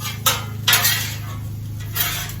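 Metal spatulas chop fried rice on a hot Blackstone griddle, three sharp clanking strikes spaced unevenly over a steady low hum.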